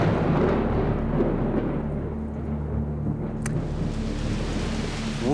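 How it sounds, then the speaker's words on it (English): A heavy wind and rain storm sweeps over the Solomon Islands, a steady, dense roar of rain and gusting wind filling the whole stretch, close and loud, with no voices. "With the wind comes the rain."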